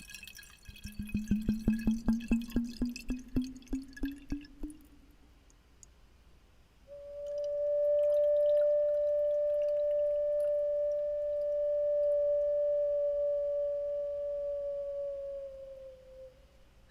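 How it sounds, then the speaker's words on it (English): A water-filled ceramic whistle made in Peru first gives a fluttering, bubbly warble that slowly rises, then after a pause blows one long, pure, steady whistling note. "it's in ceramic, and there is water inside"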